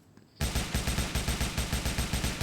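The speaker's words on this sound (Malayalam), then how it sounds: "എന്താ വെടി വെച്ചിട്ട് ഒന്നും ആന്നില്ല കേട്ടോ" Rapid automatic gunfire in the video game Indian Theft Auto rattles in a steady, evenly spaced burst of loud shots that starts abruptly and continues without pause.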